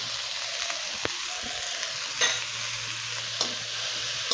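Spices with green chilli, salt, turmeric and chilli powder sizzle in a pan for a houndfish curry, a steady close frying hiss marked by a few light stirring clicks and scrapes.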